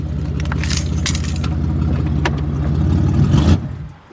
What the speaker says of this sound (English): you could just take the key out and do whatever you want while the car is running